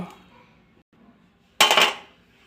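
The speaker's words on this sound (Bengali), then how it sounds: "এখন এগুলো আমি একসঙ্গে করে সব মাখিয়ে এর মধ্যে একটা ডিম ফাটিয়ে দিব" An egg is cracked against a bowl of mashed eggplant: after a quiet stretch, one sharp clack is followed by a brief clattering rattle.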